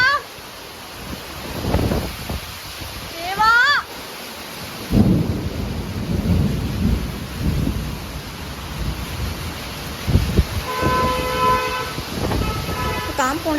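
Steady rain falls in the year's first shower of the season in Malenadu, Sagar, with rolling thunder, bird calls and a distant horn, while people talk intermittently over the downpour.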